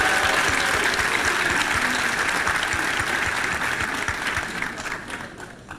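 Sustained applause from a school assembly audience for a geography award, a dense steady wash of many hands clapping that stays loud and even before easing slightly toward the end.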